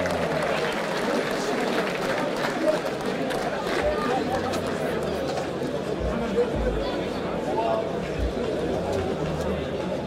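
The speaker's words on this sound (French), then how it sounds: "On peut les applaudir" Audience at a fencing-style bout clapping after the second round, a dense, sustained wash of applause mixed with crowd chatter and murmuring, moderately loud and continuous.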